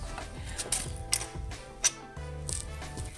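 A ratchet clicks in short, quiet bursts while a bolt is tightened on a motorcycle monoshock during installation on a Raider 150, with brief mechanical rattles and pauses between strokes.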